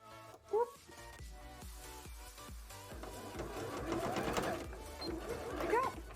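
A sewing machine stitches a jellyfish-style bra in quick, steady bursts of rapid mechanical clatter, with brief pauses between runs and a faint voice in the background.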